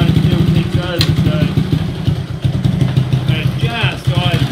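A supercharged postie bike engine idles unevenly with a rough, pulsing low rumble and some clatter, while a person talks over it nearby.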